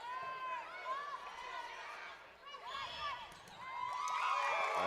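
A volleyball crowd at a regional high school tournament quarterfinal cheers and shouts after a big aggressive attack, the roar swelling toward the end with a commentator talking over it.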